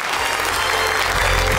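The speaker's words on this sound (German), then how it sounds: "fahr den Applaus rein" Studio applause on a TV quiz show plays in as a steady, dense wash of clapping from a crowd, loud and unbroken for the whole moment.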